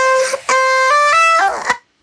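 Future bass riser built from bright synth tones stepping upward in pitch with sweep-ups and a reversed vocal, loud and alone, cutting off abruptly after about two seconds.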